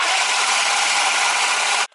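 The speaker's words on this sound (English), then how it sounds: "Then again with my immersion blender, we're just gonna mix this all up." An immersion blender mixing milk with two boxes of vanilla instant pudding mix gives a loud, steady whirring buzz that runs without a break, then cuts off abruptly near the end.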